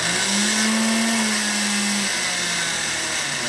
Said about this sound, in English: Now we're switching it over to high. And it'll just kick some butt.